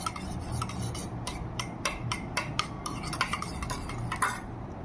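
A spoon stirs chili through a tomato sauce mixture, making repeated scraping and clinking strokes against the bowl in a steady rhythm, close and moderately loud, with no voices.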